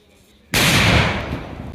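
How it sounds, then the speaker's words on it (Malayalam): A single loud firecracker bang erupts after a quiet moment during Vishu festival celebrations, then a rushing, crackling roar that slowly fades. "ഗുണ്ട് കത്തിച്ചു"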